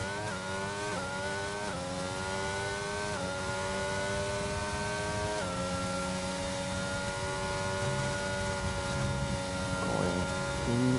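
A Mercedes Formula 1 car with DRS open accelerates onto a flying lap at Belgium in an F1 video game, its high engine whine climbing in pitch through several quick upshifts, with faint commentary underneath.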